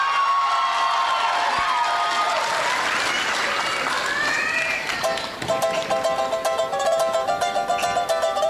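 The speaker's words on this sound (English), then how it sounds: "please give a warm round of applause and give it up" An audience at a Tahitian dance festival applauds and cheers for a Polynesian dance group from Costa Mesa, California, loud clapping and whoops that fade out partway through before shouts and drum beats rise again.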